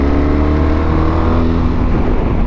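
A BMW R 1300 GS Adventure motorcycle with an automated shift transmission accelerates hard, its engine a loud, close, steady roar that rises slightly in pitch throughout.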